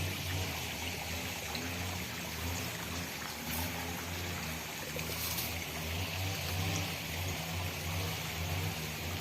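A shallow stream of water flowing over rocks near a path in a village, its steady broadband rush continuous and fairly close, with no voices.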